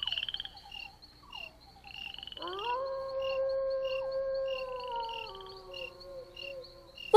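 A wolf howls in the wilderness, one long rising then sustained and slowly falling cry that stands out over a steady background of chirping crickets, clear and moderately near.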